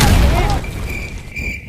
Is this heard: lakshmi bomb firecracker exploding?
yes